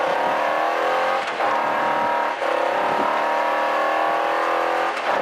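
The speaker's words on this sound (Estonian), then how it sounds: "Ja nüüd hakkab auto jõhkert liikuma" A rally car engine roars loudly and continuously on a special stage of the 2021 Saaremaa Rally, accelerating hard, revving high with brief dips between gear changes.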